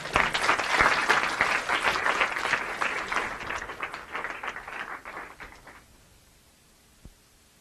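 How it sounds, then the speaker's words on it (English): Audience applause for a TEDx speaker at Columbia SIPA, a dense sustained clapping that fades out over several seconds into near silence with a single knock at the end. "So please put your hands together for a round of applause for Kwesi Daniels."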